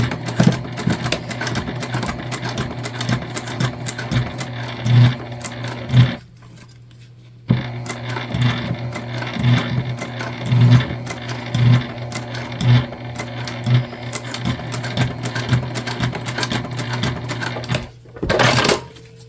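Sewing machine stitching through a thick crossbody bag with D-rings attached, running in steady close bursts of rapid needle strokes, pausing briefly midway and stopping near the end.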